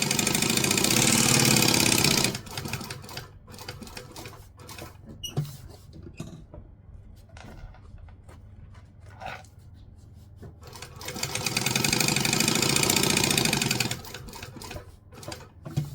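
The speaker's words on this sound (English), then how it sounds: "I'm going to go back up to a 4, and I'm top stitching at 1/8 of an inch" A sewing machine top stitching a seam at a 1/8-inch allowance with stitch length set to 4 runs in fast, loud bursts of rapid mechanical patter, with quieter pauses and small handling clicks between the runs.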